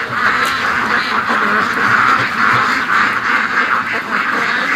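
Muscovy ducks quacking continuously and loudly up close, a dense flock chorus with overlapping calls throughout.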